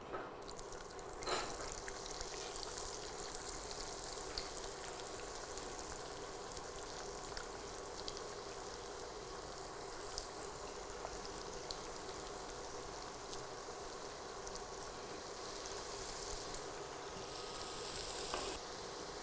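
Pieces of ragi dough dropped one at a time into hot cooking oil make a steady, even sizzle and crackle that runs unbroken throughout, fairly close, with no talking.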